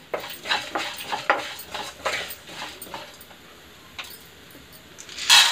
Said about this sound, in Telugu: సో ఈ వేడి మీదే మనం ఇంకా పుట్నాలు అనేవి వేసేద్దాం